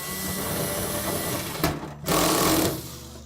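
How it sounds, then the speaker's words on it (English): A power driver runs the last mounting screw into the back of a GE range oven while a broil element is replaced, a steady close whirring motor that breaks off briefly and then surges again with a louder burst near the end. "And then install the remaining mounting screw at the back."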